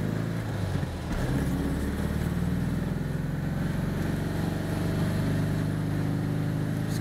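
Porsche 356 engine driving through a neighborhood, a continuous low, throaty buzz with steady rumbling pulses, close and loud throughout.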